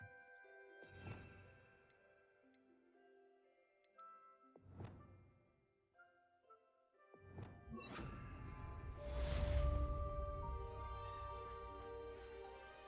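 In the Hogwarts Legacy video game, the Bombarda spell blasts pumpkins with a few sharp smashing impacts set over soft ambient tones. A larger crash near the end is followed by ringing debris.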